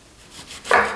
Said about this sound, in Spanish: Vamos a picar la cebolla morada